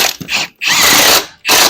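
A ratchet tightens a wheel nut on a Mitsubishi Pajero wheel, three loud close bursts of rapid clicking separated by short pauses.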